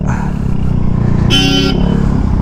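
A vehicle horn honks once, sharp and loud, over a rumbling Yamaha Mio i 125 scooter engine close by.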